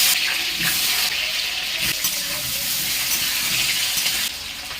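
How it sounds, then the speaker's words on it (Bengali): Washed potatoes hit hot oil in a wok, giving a loud, steady broadband sizzle that hisses continuously throughout and eases slightly at the very end. "তেলটা আমার গরম হয়ে গেছে এই আলুটা কড়াইতে দিয়ে দেবো"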